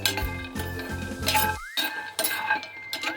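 Fox nuts (makhana) roasting and being stirred in a pan with ghee and salt, giving rapid clinking, scraping and rattling of kernels against the metal pan, close and fairly loud, with no talk.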